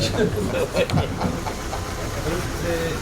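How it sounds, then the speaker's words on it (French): Car engine running close by and droning steadily through a public lecture in Mennecy, with someone speaking over it. "Alors plus fort parce que là vous êtes combattu par une voiture de Claude Garot."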